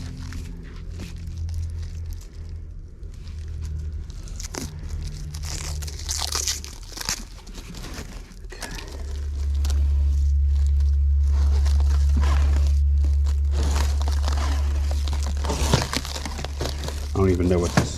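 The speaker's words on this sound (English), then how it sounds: "Typewriter is wrapped." An old, roughly century-old typewriter being wrapped for packing, with repeated loud crinkling and crunching of wrapping material, a heavy low rumble in the middle stretch, and people talking at times.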